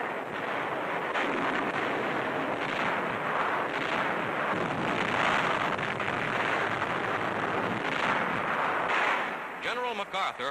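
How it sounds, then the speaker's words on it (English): Repeated blasts of a bombardment pounding enemy coastal positions, heard as dense, continuous rumbling bursts in a 1944 wartime newsreel soundtrack, loud and sustained throughout. "Enemy positions and installations along the entire coast are blasted again and again."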